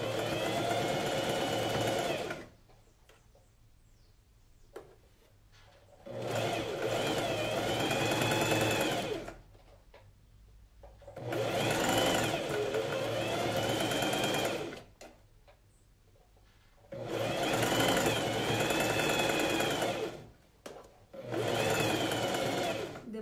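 Sewing machine stitching a coat collar, running in four long steady bursts of a few seconds each, separated by short quiet pauses, close and fairly loud with no talk over it.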